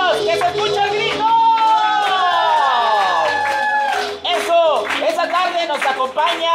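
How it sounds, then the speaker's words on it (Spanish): A studio audience on a Mexican children's TV variety show shouts and cheers loudly on cue, a sustained roar of many voices with whistles and squeals rising over one another. "¡Que se escuche el grito!"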